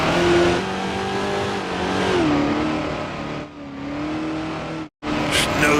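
Race car engine in the Grand Prix Legends racing game, on the Dundrod circuit, droning steadily and loud with pitch rising and falling through gear changes, briefly cut out near the end before returning.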